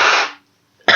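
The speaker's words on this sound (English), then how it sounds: "I hope you guys can deal with me blowing my nose" A woman blows her nose, a loud, breathy honking burst that fades out, followed by a pause and the start of another blast, close and alone.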